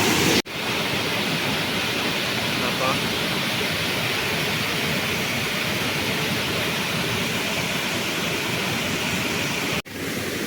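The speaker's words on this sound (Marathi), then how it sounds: "हा बघा इथून पण वरतून पाणी येत" A Konkan waterfall, water pouring down from above, makes a steady, loud broadband rush that fills the whole stretch without letup, with brief cuts near the start and end.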